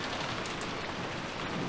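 Steady pouring rain from the Umineko video game, a dense continuous hiss with faint low rumbles, even and close throughout with no voices.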